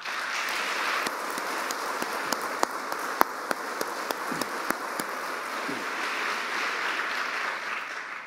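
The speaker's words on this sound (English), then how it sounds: "Get ready to applause again." Steady, dense audience applause fills a university hall during a fall 2019 presidential update at West Chester University of Pennsylvania, a continuous wash of clapping with a few sharper individual claps standing out, no talk over it.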